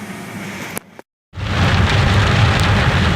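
A thunderstorm on a hiking trail: heavy rain hisses in a dense, loud, steady roar, broken once by a brief moment of near silence before the downpour surges back even stronger, with rumbling low thunder underneath.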